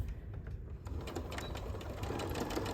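A sewing machine stitches pillow fabric close by, a steady rapid mechanical whirring and clatter running continuously and quietly with no talk.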